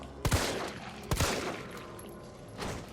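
Gunfire against zombies in the video game Resident Evil 3 on easy mode, two sharp close shots about a second apart and a softer third one later, with no voices.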